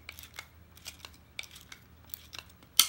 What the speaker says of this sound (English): Simply wind the cameras